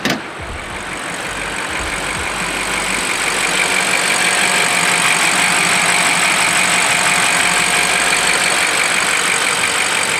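A BMW X6 M60i with a 530 hp engine fires up with a sharp start and then settles into a steady, close, loud idle for about ten seconds, with no voices.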